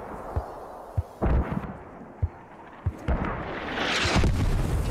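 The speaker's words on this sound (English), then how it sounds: "Enemy mortars confirmed in Delta 7 on helmet markers" Mortar fire in the Squad video game lands as several dull thumps and booms at irregular intervals, one rumbling blast rolling out toward the end.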